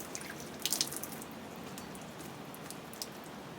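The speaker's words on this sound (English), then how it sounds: "It's going to push some of that water out." Water drips and trickles from a Phalaenopsis orchid's pot into a decorative pot, a few soft, close droplets clustered near the start and one more later over a faint, steady wash, with no talking.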